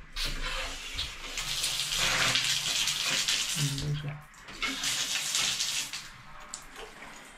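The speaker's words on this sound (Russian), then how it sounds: "В туалеті набирається вода." Water rushes and hisses steadily as a toilet cistern refills in a home bathroom, loud and close, with a brief dip before the flow resumes; faint voices murmur in the background.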